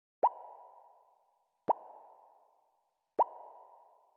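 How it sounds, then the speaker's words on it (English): A synth pluck phone notification repeats three times at even intervals. Each note is short and bright with a slight upward pitch rise and a quick decay, clean and alone. "Just a pluck, and we have some tuning changes so it goes up, so that's where the kind of rising sound comes from."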